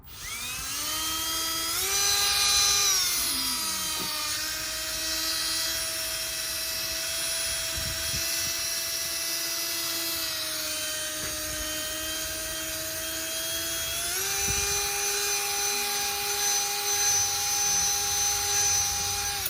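A Milwaukee power drill spins a buffing pad against a car headlight, a steady high whine with rising and falling pitch as load changes, close and continuous with no voices.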